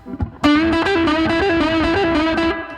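A distorted electric guitar plays a quick repeating lick, two longer eighth notes then a fast sixteenth-note pull-off flurry, loud and close with effects-laden sustain.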